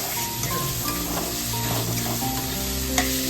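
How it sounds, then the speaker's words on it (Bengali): Raw green banana sizzles steadily in hot oil with frying onions, a close, continuous crackle with faint stirring scrapes and a soft clink near the end. "পেঁয়াজটা একটু লাল হোক, তারপরে কাঁচা কলাটা দিয়ে দিচ্ছি।"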